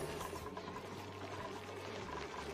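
Cold polluted water being poured in the colony-simulation game Oxygen Not Included, a soft continuous gushing flow with a low steady hum underneath, faint and unbroken.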